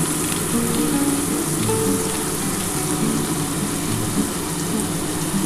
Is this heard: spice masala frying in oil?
yes